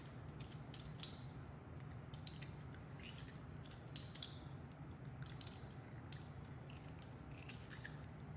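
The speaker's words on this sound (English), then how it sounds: "And then I'm going to use my garlic press" Garlic press crushing garlic in a home kitchen while making garlic basil aioli: a series of quiet, crisp metallic clicks and squeaks in irregular bursts, close and faint.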